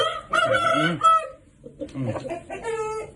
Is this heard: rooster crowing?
yes